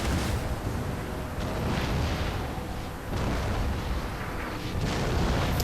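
Massed cannons fire in a Napoleon: Total War battle at the Pyramids, making a dense, continuous barrage of overlapping booms and a thundering roar that stays loud throughout, with no talk.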